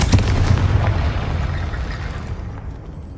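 A Confringo spell explodes in Hogwarts Legacy with a loud, booming blast at the start, then a rumbling roar that slowly fades over a few seconds. Nothing else is heard.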